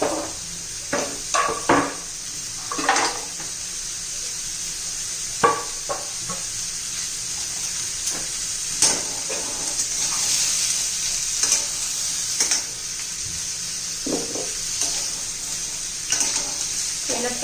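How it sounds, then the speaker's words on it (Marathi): Raw papaya pieces sautéed and stirred in a hot pan, with steady sizzling and repeated spatula scrapes and knocks at close range over about seventeen seconds. "गरम झालेला आहे त्यात आपण आता पपईच्या फोडी घालून घेऊया थोड्या आपण पपईच्या फोडी परतून घेऊया"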